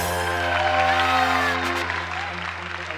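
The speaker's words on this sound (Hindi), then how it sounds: "वेल डन भाई, उजैर के लिए बहुत सारी तालियां।" A studio audience on a TV game show applauds, a soft wash of clapping and faint cheering set beneath steady, sustained musical tones, easing slightly toward the end.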